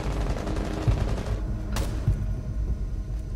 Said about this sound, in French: Et Ness qui va tomber sous les balles d'Hunter encore.